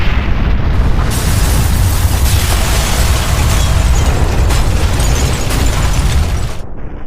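A loud, sustained nuclear test explosion roar rumbling with heavy low-end power for several seconds before cutting off abruptly.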